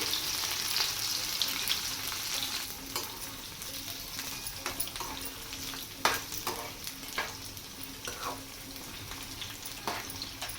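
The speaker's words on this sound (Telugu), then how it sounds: "ఇప్పుడు ఈ స్వీట్ కార్న్స్ వేసుకుని డీప్ ఫ్రై చేసుకోవాలి" Sweet corn kernels deep fry in hot oil with a dense, continuous crackling sizzle, dotted with sharp pops and occasional stirring clatter, steady and fairly quiet throughout.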